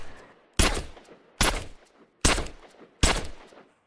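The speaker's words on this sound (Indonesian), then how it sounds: "Budevki tanpa ragu akhirnya menembak semua peluru yang ada ke Jogan" Four loud gunshots from a film scene, spaced evenly about a second apart, each a sharp blast followed by a decaying echo, with nothing else audible between the shots.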